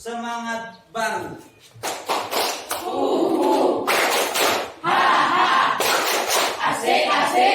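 Students in a junior high classroom clap together in a fast, rhythmic spirit-clapping pattern, sharp bursts in quick succession with excited voices shouting along.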